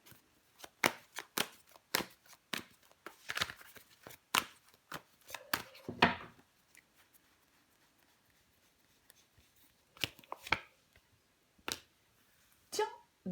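Tarot cards laid out and covered one after another, giving a run of crisp, close card slaps and soft shuffles, then sparse single placements separated by quiet.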